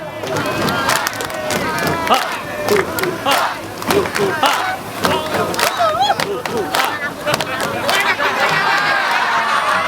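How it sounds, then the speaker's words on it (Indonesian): A crowd chants and shouts a rhythmic campaign cheer for a candidate pair in Jakarta, with clapping and thigh slaps in time. Voices are loud, dense and mixed together, and a leader speaks between the chants. "Dada 2 kali, tepuk tangan. Setelah itu paha 2 kali, tepuk tangan."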